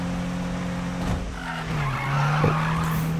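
A car drifts in Need for Speed 2015, its tires skidding and squealing over a steady engine hum that dips in pitch, with a brief thump and a rising scrape near the end, close and with no talk.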